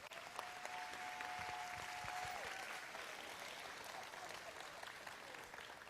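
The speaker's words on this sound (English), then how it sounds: "give this class of senior showmanship a round of applause" Audience at a 4-H county fair dairy show applauding a senior showmanship class, a steady wash of clapping from a crowd lasting several seconds.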